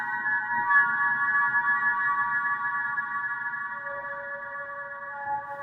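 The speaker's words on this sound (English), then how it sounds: "this has an outer space switch to introduce reverb" Sustained tones washed in reverb from an effects pedal's outer space switch, a steady hazy ringing drone with a new lower note entering near the end, fairly quiet and alone.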